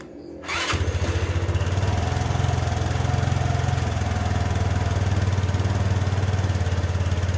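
Rusi RFI 175 motorcycle engine started remotely through an installed two-way alarm, silent at first, then the engine catches after half a second and settles into a loud, steady, close idle with a rapid putter.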